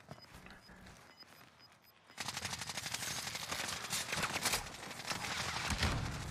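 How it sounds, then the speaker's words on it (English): Rapid gunfire erupts in Call of Duty Warzone after a quieter stretch, a dense, loud burst of automatic shots that continues steadily to the end, with no speech. "I'm pushing these guys. Getting shot at."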